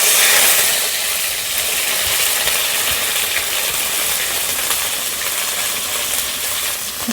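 Onion-garlic paste and cumin seeds frying in hot oil in a village kitchen give a steady, dense sizzle that holds evenly throughout at close range, with no voices.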